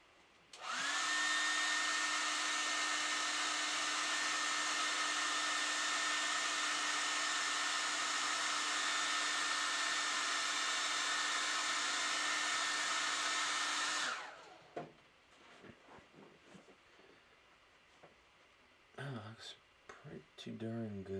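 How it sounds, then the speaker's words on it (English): A hair dryer blows on fresh paint on a desk, a loud steady whirring drone that runs unbroken for about thirteen seconds, then shuts off and leaves quiet handling noises. "I'm gonna use my hair dryer to dry this real quick."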